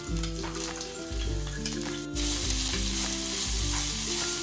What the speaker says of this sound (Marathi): खोबरं तुपावरती आपल्याला छान असं परतून घ्यायचंय.